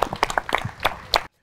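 A studio audience on a Vietnamese TV game show claps in scattered bursts, several distinct claps spread over about a second before cutting to silence.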